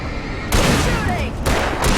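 Loud gunfire in the video game Alan Wake, with two sharp bursts of shots close up over a dense, noisy background of game effects.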